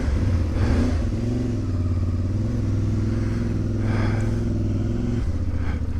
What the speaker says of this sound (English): we are about to go for our first ride on our brand new 2026 Ibex 450 from CFMoto